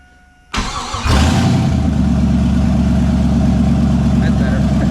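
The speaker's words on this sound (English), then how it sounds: "See if it idles now." First start of an LS-swapped Chevy S10 with a Valvetronic exhaust: a quiet moment, then the engine cranks, catches with a rising roar and settles into a loud, steady, rumbling idle close by.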